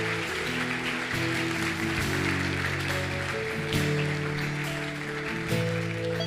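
A church congregation claps and applauds during a Portuguese-language worship service, a steady wash of clapping over sustained organ or keyboard chords.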